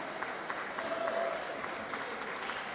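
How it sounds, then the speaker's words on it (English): An audience claps for a speaker being welcomed to the stage at a talk, a short, even burst of applause with faint crowd murmur throughout. "Give him a good round of applause, y'all."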